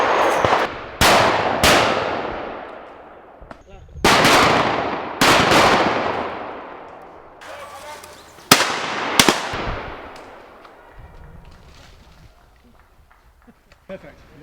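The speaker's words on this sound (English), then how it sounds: "a short but plentiful drive sees every gun get some excellent shooting." Shotguns firing during a pheasant and woodcock shooting drive in Denmark: about seven sharp, loud reports in irregular clusters, each trailing off in a rolling outdoor echo, with faint background voices.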